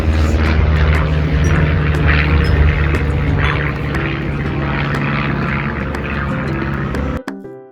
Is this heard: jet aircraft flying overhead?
yes